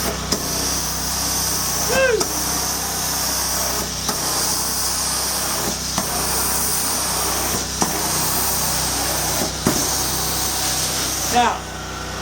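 An Amtex Prowler 13hp hot water pressure washer engine runs in a steady, loud broadband drone, with a few short dips and a brief higher whistle over the constant roar.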